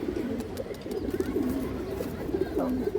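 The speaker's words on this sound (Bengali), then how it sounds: "পুরনো ব্লাডলাইনের একটা বাঘা খাকি মাদি কবুতর" A Bagha Khaki female pigeon from an old bloodline coos softly, repeating low rolling coos at an even pace over a quiet background.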